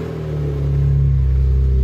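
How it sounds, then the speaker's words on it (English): A 2002 BMW E46 M3 with a standard engine rated at 342 brake horsepower idles with a deep, steady rumble, then climbs into a louder, sustained rev, close and alone. "A 2002 E46 M3 running."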